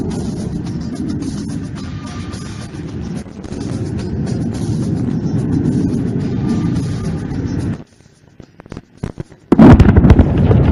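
Simulated bomb blasts at an Indian Air Force air show, low-flying Jaguar jets overhead: a long, loud rumbling roar that cuts off abruptly, a few scattered cracks, then a sharp, booming burst close by.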